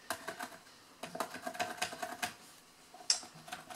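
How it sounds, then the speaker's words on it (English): Quiet scraping and clicking of scissors working inside a hollow wooden guitar body, in short irregular bursts with a sharper tick near the end. "I'm gonna just, like, shove my scissors in there and scrape around"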